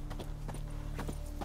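Horse hooves clip-clop in a quick steady rhythm in The Witcher 3, a close, moderately quiet gallop on its own with no talk.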